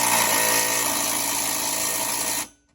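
An impact wrench runs on exhaust hanger bolts under a 2019 Ford Flex during a receiver hitch install, giving one continuous, close, whirring burst that cuts off abruptly.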